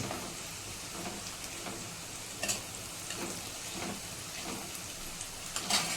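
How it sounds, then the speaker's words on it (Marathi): Ginger-garlic paste fries in hot oil with asafoetida, turmeric and spice mix for a mixed vegetable dish, a soft, steady crackling sizzle with a few louder pops, fairly quiet throughout. "लसूण पेस्ट घालून घ्यायची जरा ते भाजून घेतलं तेल"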